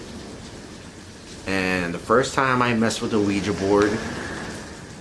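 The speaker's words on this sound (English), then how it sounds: "y'all can hear that rain outside" Steady rain falls outside in Tampa, Florida, a soft continuous hiss running beneath a person talking close by throughout.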